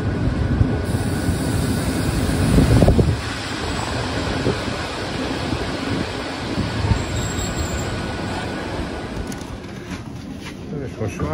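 A passenger train moves through Nagyvárad railway station, which is under reconstruction, making a loud continuous rumble of rolling wheels and wagons with some squeal, steady throughout and fairly close.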